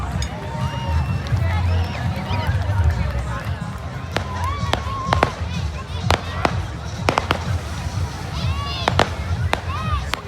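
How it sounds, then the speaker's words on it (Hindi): A fire show at a New Year's Eve beach celebration in Goa crackles and pops with repeated sharp bursts like firecrackers, over a busy outdoor crowd while people talk nearby. "हो गया है फायर शो स्टार्ट।"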